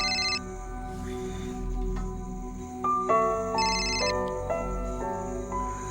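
A mobile phone rings with a melodic electronic ringtone, repeating tonal phrases played clearly and steadily for several seconds with no talking.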